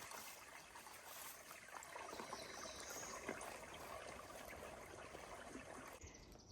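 Soft, continuous trickle of water through a water filter with a faint hiss, steady and quiet with no voices, easing off near the end, on the Appalachian Trail.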